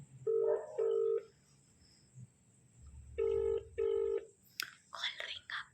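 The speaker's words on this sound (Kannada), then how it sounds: "ಕಾಲ್ ರಿಂಗ್ ಆಗ್ತಾ ಇದೆ." A phone call ringing out: two pairs of electronic ringback tones with a pause between them, followed by a brief faint voice near the end.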